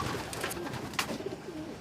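Pigeons in a loft in Mongolia coo softly and repeatedly at close range over a steady background hum, with a brief flutter or clatter partway through.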